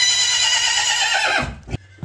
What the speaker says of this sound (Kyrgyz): Кыргыз жылкы экен.